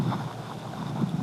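Strong wind blowing outdoors on a cold, foggy day, heard as continuous low buffeting rumble against the microphone with slight gusts, close and steady, no speech.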